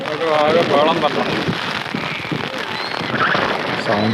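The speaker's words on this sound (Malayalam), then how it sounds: "സൗണ്ട് ഇത്തിരി മഴയായതുകൊണ്ടാണ് അത്ര സൗണ്ട്" Steady rain falls at the Ponmudi hill station, a dense patter that fills the background while people talk close by.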